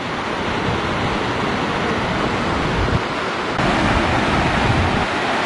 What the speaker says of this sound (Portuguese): A cachoeira, formar a cachoeira.